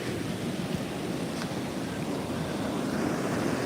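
Storm-driven ocean surf from Hurricane Erin surges onto Bethany Beach, a dense, steady roar of breaking water mixed with gusting wind on the microphone, unbroken and loud throughout.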